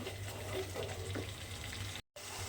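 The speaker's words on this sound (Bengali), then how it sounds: "সমস্ত গুঁড়ো মশলাগুলো খুব ভালোভাবে এর সঙ্গে মিশিয়ে একটু কষিয়ে নিতে হবে" Ground spices being stir-fried in oil for a Bengali cabbage dish, giving a continuous dense sizzle with faint stirring, nearby and steady, with a brief dropout near the end.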